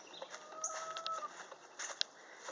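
Faint, soft clucking from chickens at a distance, a few short calls against a quiet outdoor background.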